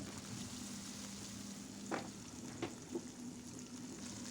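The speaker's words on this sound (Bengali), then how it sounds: "প্রতিটা পাশ 2 মিনিট করে আমি ভেজে নিব।" Soft pabda fish frying in oil in a pan, a quiet steady sizzle with a low hum and a few faint taps of utensils, no talking.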